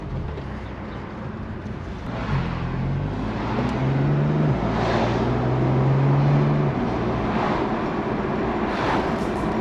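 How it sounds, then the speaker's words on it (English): A BMW M2 Competition, driven with its stock exhaust, rumbles steadily from inside the cabin. Engine drone holds throughout, with tonal pitch rising as it revs up, while no one speaks. "Oh, an M2. I've always wanted to drive one of these."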